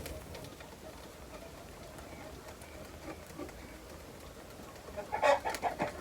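Quiet background for several seconds, then a hen's burst of clucking near the end, close and fairly loud.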